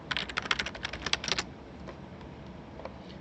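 Quick burst of computer keyboard typing, a rapid run of close clicking keystrokes lasting about a second and a half, followed by a few faint isolated taps in a quiet room.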